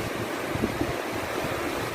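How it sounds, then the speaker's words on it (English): A small waterfall on the River Dove gives a steady, loud rush of falling water, constant and close, with no voices over it. "Nice little waterfall here for you people."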